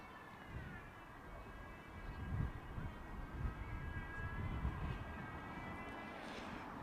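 A Boeing 737 jet on approach at Heathrow Airport, a steady broad roar with a rising whine, fairly distant and continuous, swelling slightly as it passes.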